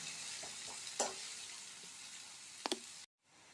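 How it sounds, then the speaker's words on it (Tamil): Onion, green chili and crushed garlic sautéing in a pan, a soft steady sizzle with a few brief stirring scrapes and knocks before it cuts out. "இந்த பாருங்க, வெங்காயம் பச்சை மிளகா பூண்டெல்லாம் வதங்கிட்டு இருக்கு இல்லையா?"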